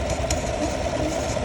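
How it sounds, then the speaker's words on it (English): A Chevy/GMC truck engine idles steadily with a weak vacuum pump, a close, even rumble with a constant hum and faint ticking, no voices over it. "Just going to turn the engine back on so you can see what I'm going to do"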